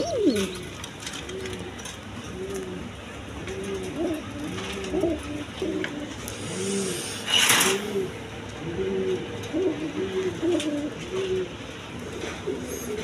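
A pair of colored Gola pigeons with eggs coo repeatedly in soft, rhythmic rolling phrases, close by and steady, with a brief burst of noise partway through.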